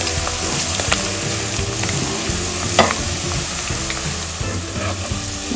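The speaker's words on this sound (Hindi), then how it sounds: "चलिए डल गया है, इसको फ्राई कर लेते हैं" Whole spices, bay leaf and mace, fry in hot oil for Lucknowi biryani, giving a loud, close, continuous sizzling crackle with occasional stirring scrapes and no voices.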